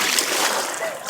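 A child dives into water on a camping day, giving a brief, close splash with spray and sloshing, with voices nearby.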